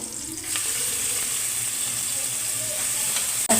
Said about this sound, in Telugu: ఇక్కడ ఉల్లిపాయలన్నీ కొంచెం వేగాయి